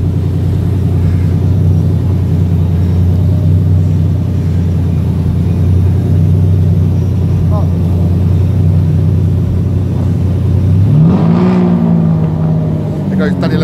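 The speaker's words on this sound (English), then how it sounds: "There goes Danny Lambo's car leading the pack, leading the gangsters against the blacks. Look at Lamborghini, mate." A Lamborghini drives past on a film set in Peckham, a steady engine rumble with a brief rising rev near the end, heard alongside people talking.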